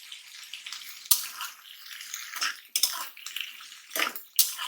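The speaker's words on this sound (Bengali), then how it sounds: "মশলাগুলো কষিয়ে নেব একটু জল দিয়ে দিব যাতে মশলাগুলো একটু পুড়ে না যায়" Water splashes into a pan of frying spices, coming in several short bursts and pours with sizzling hiss between them, close and fairly loud with no talking.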